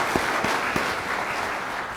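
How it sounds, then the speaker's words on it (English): An audience at an evening event gives itself a round of applause, a continuous, even patter of many hands at moderate distance, with a few soft thumps. "give yourselves a round of applause"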